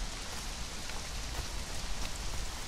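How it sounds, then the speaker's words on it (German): Steady, even rainfall in the survival video game Conan Exiles, a dense continuous hiss of raindrops with no thunder or talk over it. "Oh, Regen."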